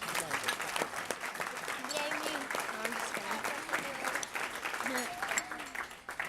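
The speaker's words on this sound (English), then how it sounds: "I'd like another round of applause for all of the talented students" A crowd at a STEM award ceremony applauds the students with sustained clapping, while voices and cheers come through the applause.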